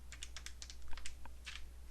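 Soft, quick key taps come from numbers being entered on a calculator or computer during a math lesson, a close, light, irregular run of clicks over a low steady hum.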